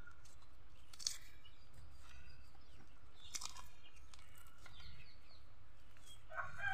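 A hen clucks faintly in a rural yard, soft scattered calls spread over several seconds against a quiet background, with occasional sharper bird sounds near the end.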